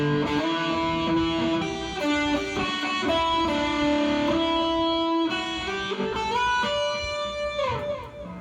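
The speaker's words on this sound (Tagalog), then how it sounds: "yun yung tunog noong Nox Mighty 50X DSP amplifier" Electric guitar played through a NUX Mighty 50X DSP amplifier preset, a busy strummed and picked passage with bright sustained chords and notes, loud and close, with no talking.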